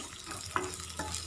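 Ingredients for a savory steamed rice-flour dumpling dish get stirred in a pan: a brief soft frying hiss with two quick spoon scrapes, close and quiet.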